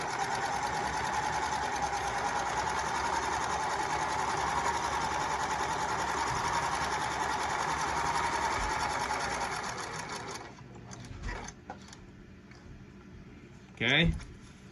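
A sewing machine stitches a two-ply napkin in a continuous fast whirring run for about ten seconds, then stops, followed by quieter handling sounds and brief scraping of fabric; soft talk occurs near the end.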